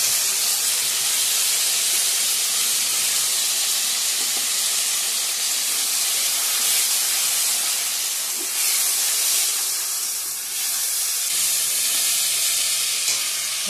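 Tomato paste sizzles steadily in a frying pan, a loud, continuous hiss of frying that holds even for the whole stretch with no voices.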